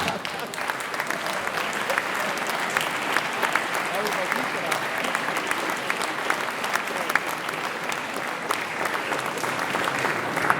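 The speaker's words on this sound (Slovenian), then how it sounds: "En aplavz za gospoda župana." Festival audience in a concert hall at a youth choir festival gives a round of applause for the mayor, a dense, even clapping that runs steadily throughout with scattered sharper claps and faint voices underneath.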